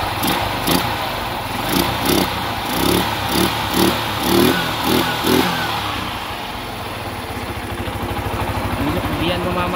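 Motorcycle engine fitted with a 24 mm D-type carburetor, rhythmically revved in repeated bursts before settling into a lumpy, throbbing idle, close to the microphone.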